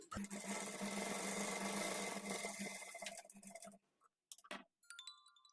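A sewing machine runs in one steady, continuous burst while stitching a lining for thread piping, then stops. A few short clicks and handling noises follow in the quiet.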